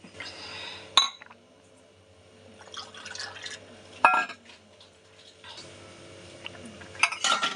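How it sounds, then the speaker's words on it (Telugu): Dishes being washed in a kitchen sink: sharp clinks of utensils and steel bowls at intervals, with soft trickling and dripping water and quiet handling between the knocks. "ఇంక ఇప్పుడు గిన్నెలు కడిగేసుకుంటాను"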